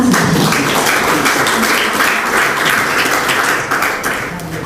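Sustained loud applause from an audience at a literary award ceremony and poetry book launch in a National Assembly seminar room, steady dense clapping that fades slightly toward the end.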